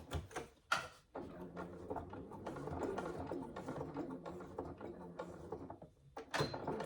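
A sewing machine back stitching fabric on a saddle bag, giving a quiet, uneven whirring and clicking run with brief pauses and a few faint handling knocks.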